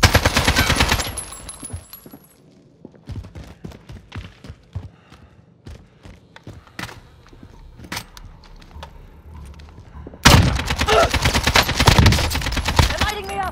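Heavy automatic gunfire in a video game, dense bursts at the start and again near the end with scattered sharp shots and thuds between, loud and close, with occasional shouting underneath.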